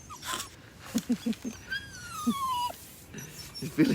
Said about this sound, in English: dog making the noise